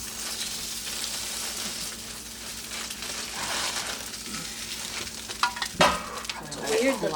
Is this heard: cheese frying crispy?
yes